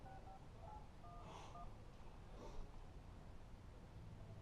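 Telephone keypad dialing tones, a few short, faint beeps in quick succession over quiet room hiss as a call is placed.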